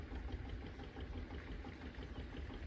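Tractor engine running steadily at a farm water tank, a continuous low rumbling drone with an idling, knocking quality and no talk.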